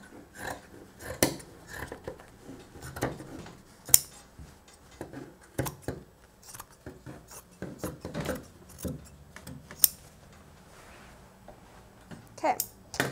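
Scissors cut through the legs of blue jeans in a series of crisp snips and slices spread across the clip, with handling rustles and a few sharper clicks between cuts.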